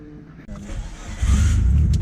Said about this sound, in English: letting me drive the Evo and ride your boy's car